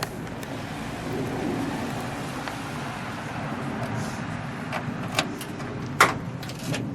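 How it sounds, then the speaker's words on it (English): The trunk of a 1966 Ford Fairlane 500XL convertible opens with a few sharp latch clicks and a thunk near the end, heard close over a steady low outdoor rumble, with no talking. "Let's open up the trunk, shall we?"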